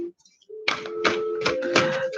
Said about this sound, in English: no, I'm going to shuffle